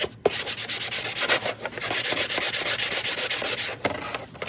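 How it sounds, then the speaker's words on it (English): Sandpaper rubbing the edges of a wooden door tag in quick, regular back-and-forth strokes, loud and close, with a short pause near the start and one near the end. "I'm going to sand these edges"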